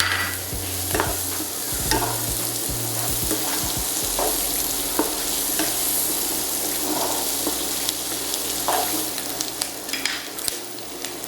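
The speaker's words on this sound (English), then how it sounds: "So here I have the bacon grease and some butter. I'm going to add the onion." Onion frying in bacon grease and butter for Southern smothered pork chops, a steady close sizzle with repeated clicks and scrapes of stirring throughout, no voices.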